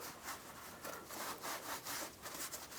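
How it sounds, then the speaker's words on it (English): A rag rubbing excess oil off a GMC Yukon XL engine part after an oil filter change, quiet rhythmic scrubbing strokes in quick back-and-forth bursts, close and faint. "Just take a rag and wipe off any of the excess."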